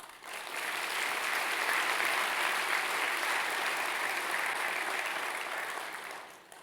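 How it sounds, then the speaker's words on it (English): Audience applause at the California Department of Corrections and Rehabilitation Medal of Valor award ceremony, a smooth, sustained wash of clapping from a large crowd heard from a distance, swelling in and tapering off gently at the end. "could we give them an applause?"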